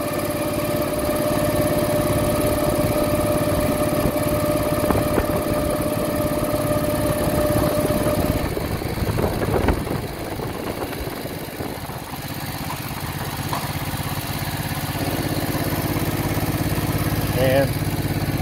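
A 1968 Moto Guzzi V7 700 motorcycle engine drones steadily while riding at about 30 mph, a loud continuous mid-pitched hum that eases slightly partway through, with talking over it.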